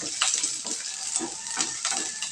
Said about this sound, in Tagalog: Hindi lang po kabilis mag-prito ng itlog.